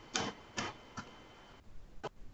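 Keystrokes on a computer keyboard while a URL is typed, a few separate quiet clicks spaced irregularly, with no talking.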